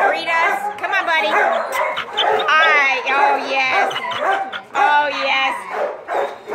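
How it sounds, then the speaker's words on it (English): A friendly bloodhound–Labrador mix dog in a shelter's big-dog run whines and yips in a steady, close, loud stream of vocalizing, mixed with people talking to it. "Boy here is a bloodhound lab mix."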